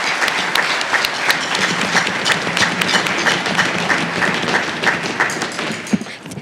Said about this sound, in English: can we give a round of applause for the people who made this happen?